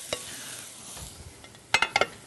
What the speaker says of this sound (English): we're just going to do a couple of spins around the pan to get all of the flavors, all of the products all happy and together